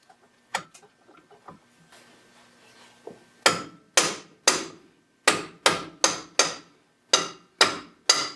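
A hammer taps a U-bolt into place during a DIY front lift install on a truck: a few light knocks, then a run of about ten sharp, evenly spaced metallic strikes, close and loud, with no talking.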